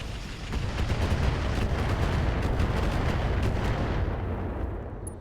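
Artillery fire in the mech strategy game RogueTech: a dense, sustained roar of rapid booming impacts that fills the whole stretch before easing off at the end, with no talking.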